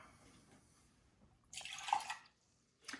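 Water pours for French press coffee in a short burst of splashing flow lasting about a second, then a brief second pour trickles in near the end over quiet room background.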